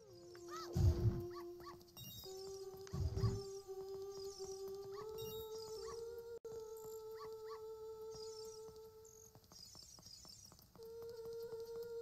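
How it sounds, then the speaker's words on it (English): A dog barks and howls in a 3D Zelda video game, with two loud bursts early on, then a steady drone of game music and effects. "Dog's still following me."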